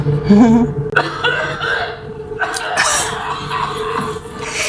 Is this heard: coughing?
yes